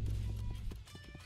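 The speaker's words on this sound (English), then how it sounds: "I can definitely hear my own footsteps here." Footsteps in the Roblox game patter as a quick run of hollow clip-clop steps, close and fairly quiet for about a second before trailing off.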